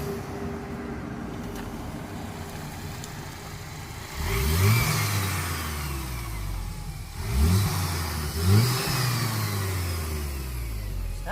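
Kia Optima 2.0T with a DIY air intake and BOV spacer revs up through rising engine sweeps, three distinct acceleration pulls heard from inside the car over steady road noise.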